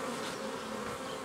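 Honeybees hum at a beehive in a dense, continuous buzz, steady and even throughout with no voices.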